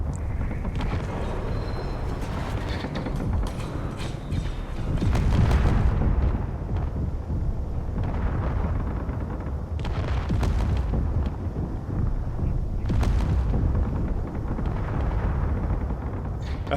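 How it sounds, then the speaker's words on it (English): Big explosions in the Space Engineers video game sound as a series of heavy booms and rumbling bursts, several strong blasts spread across a continuous low roar. "big explosions"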